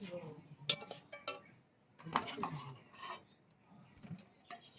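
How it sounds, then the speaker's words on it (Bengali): Boiled eggs lifted one by one from a pot and dropped into cold water, giving a few sharp clinks and scrapes of utensil against pot with soft splashing between, close and fairly quiet, no talking. "ডিমগুলো তুলে নিচ্ছি আমরা এক এক করে, ঠান্ডা জলের ভিতরে দিয়ে দিচ্ছি ডিমগুলো"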